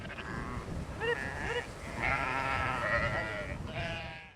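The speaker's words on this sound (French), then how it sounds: "les parcs à moutons." Sheep bleating in a farm pasture at the Ferme de Vernand, several wavering calls in a row over a steady outdoor background.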